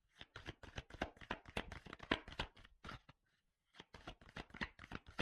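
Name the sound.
shuffling tarot cards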